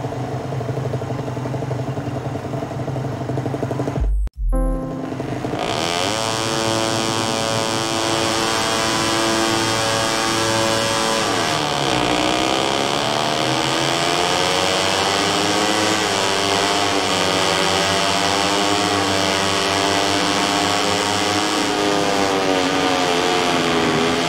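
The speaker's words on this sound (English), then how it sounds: "Are lined up, the engines are revving" MotoGP racing motorcycle engines rev loudly together on the starting grid at the Spanish Grand Prix at Jerez in MotoGP 17, a dense, continuous roar with rising and falling pitch sweeps after a brief cut near the start.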